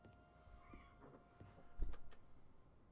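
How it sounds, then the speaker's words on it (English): Minerva, a pet cat, gives one short, faint meow in the background of a quiet room. "I don't know if you can hear Minerva meowing"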